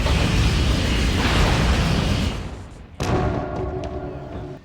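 Heavy rumbling explosion as a spaceship's main rear weapons are hit in a Babylon 5 space battle, a sustained loud roar that fades, then a second sharp blast followed by trailing rumble.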